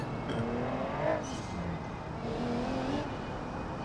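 A Porsche driven in BeamNG.drive on a scenic road, a quiet, steady engine drone with gentle swells in pitch as it accelerates and shifts, heard faintly and alone.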